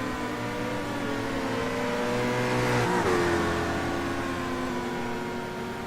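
Legends class race cars circling a track, a continuous loud engine drone with a pitch that rises and then drops sharply around the middle as a car passes close by, with no talking.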